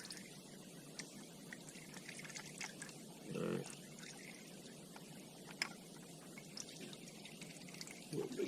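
Engine oil draining from a 2004 Honda Foreman 450 ATV into a pan, a faint steady trickling pour with a brief louder gush, under quiet background noise.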